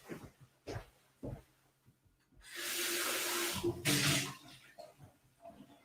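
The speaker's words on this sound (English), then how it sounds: "I'm just going to do a quick rinse on this" Running tap water rinses an item under a faucet in a sink, a broad steady hiss of flow lasting a couple of seconds between quieter clinks and handling noises, close to the listener.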